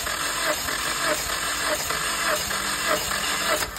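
A 2011 Hyundai i30 with a 1.6 engine cranks over on the starter during a compression test, a steady rhythmic churning with regular pulses about every half second, loud and close, no talk.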